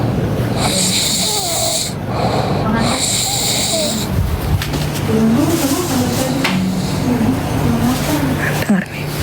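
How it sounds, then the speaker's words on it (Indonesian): A sleeping husband snores loudly and close by in repeated rasping breaths, with a few snorts, while someone talks over part of it. "Kau dengar suara ngorok suamiku."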